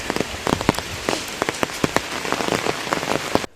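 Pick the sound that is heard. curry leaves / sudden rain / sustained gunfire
sudden rain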